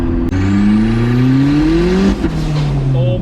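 Turbocharged Nissan truck engine revs hard and loud, its pitch climbing steadily for two seconds before a sharp boost-cut stutter, then it settles back to a lower drone, close by.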